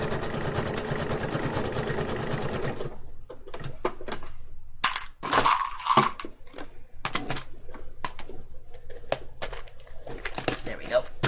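A sewing machine stitches a seam, starting as a steady dense whir and then breaking into rapid uneven clicks and short bursts at close range.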